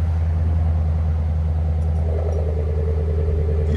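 A 2015 Lexus RC F with its 5.0L V8 idles with the Valvetronics exhaust valves open, giving a deep, steady low rumble that holds even throughout, close and loud with no talking.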